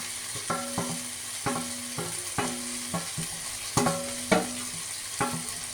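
Bitter gourd and tomato cooking in a pan, a soft background sizzle broken by repeated rhythmic scraping stirs of a utensil against the pan, roughly one every second, no talk.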